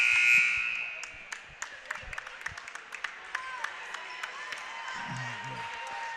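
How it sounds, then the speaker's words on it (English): Scattered, appreciative clapping from coaches and teammates at a women's reserve high school basketball game, a light patter of separate claps over the hum of the gym, with a voice talking faintly in the background. "Coaches and teammates give her Baldwin a nice round of appreciative applause on her way out"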